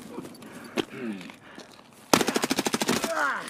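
Submachine gun firing in a video game, a rapid burst of about a dozen evenly spaced loud shots after quieter scattered sounds.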